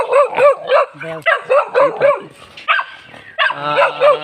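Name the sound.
dog barking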